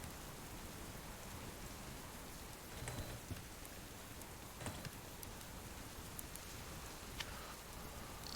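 Steady rain hisses across the scene in the survival video game Subsistence, faint and continuous, with a few sharper drips or crackles standing out now and then.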